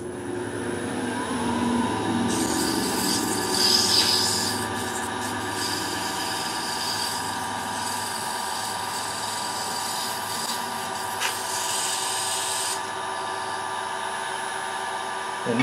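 Sandpaper rasps against a wooden mortar and pestle spinning on a lathe, a continuous hissing rub over the motor's steady hum, louder in the first few seconds and easing afterward.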